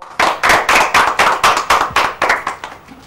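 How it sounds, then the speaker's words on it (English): Children clapping together in a room, a close run of about a dozen sharp, evenly spaced claps in a brisk rhythm that fades slightly toward the end, no voices. "Yes, clap for him also"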